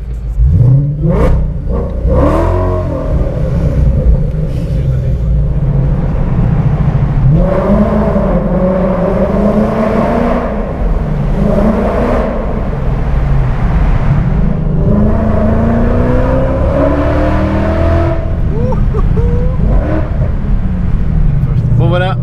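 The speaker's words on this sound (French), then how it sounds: "cette Mustang qui fait un bruit absolument incroyable" A Ford Mustang roars loudly and continuously while driving at the Top Marques Monaco 2017 supercar event, its engine swelling through repeated revs and gear changes and dropping back between them.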